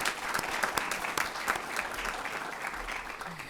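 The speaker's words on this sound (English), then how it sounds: "give them a round of applause for that" Applause at a school board work session honoring a district mental health intervention team, with a room of people clapping steadily at moderate volume, a few sharp claps standing out, and no talking.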